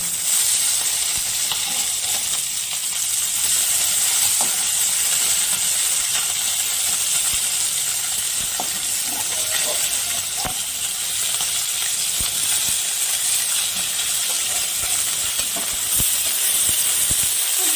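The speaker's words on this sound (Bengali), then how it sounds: "এইভাবে আমি বাকি মাছগুলো ভেজে নেব।" Small river fish fry in mustard oil in a pan, a continuous, even, loud sizzling hiss with occasional faint pops that runs without a break.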